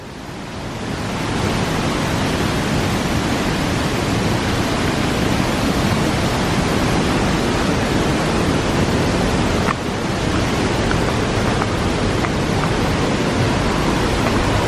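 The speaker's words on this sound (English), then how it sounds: "The entire time you just hear that rushing water below." Rushing water below in Clifton Gorge, a broad, steady roar of flowing water swelling in over the first second and then holding continuous and loud, with no voices.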